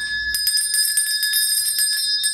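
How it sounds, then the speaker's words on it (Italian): A shop bell rings with a bright, sustained metallic tone, struck repeatedly in a rapid, even series of strokes that carry on without pause and sound close and fairly loud. "suoni campanello."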